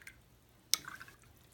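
A watercolor paintbrush rinsed in a container of water, making a single quick, close splash and a few faint drips trailing after it in near silence.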